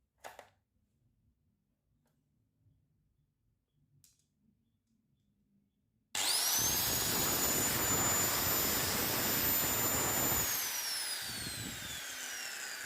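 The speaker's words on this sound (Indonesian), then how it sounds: "Kita mau coba apakah betul gerinda ini sudah hidup." An electric angle grinder, just repaired, is plugged back in after quiet handling noises and suddenly whines loud and steady at high speed, then its pitch drops as it runs down. No one speaks.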